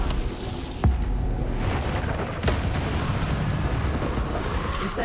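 Casting the Incendio fire spell in Hogwarts Legacy produces a fiery burst with two sharp thumps, one early and one a moment later, over a dense, continuous rumbling roar of game sound.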